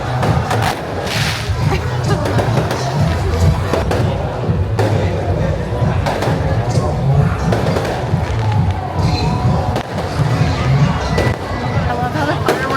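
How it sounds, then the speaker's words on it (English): Chinese New Year fireworks in Penang, Malaysia, popping sporadically with scattered bangs and thuds over a dense crowd and continuous talk, loud and close throughout. "I love how the fireworks are just like sporadic, so you don't know when it's over, when it's still happening."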